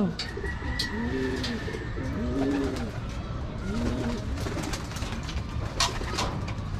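Racing pigeons cooing inside a loft, several soft rolling coos repeating at a moderate distance over a steady background hum, with faint chirps and light movement and no clear talking.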